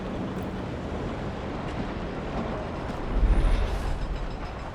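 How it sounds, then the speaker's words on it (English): The massive Dreadnought train from the Frostpunk 2 video game gives off a steady, dense rumble like rolling rail noise mixed with wind, swelling into a deeper low surge near the end, with no voices. "The Dreadnought is just a big train. A very, very, very, very big train."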